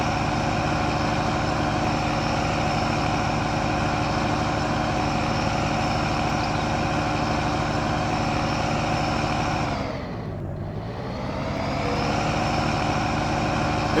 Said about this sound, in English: It's a noisy truck.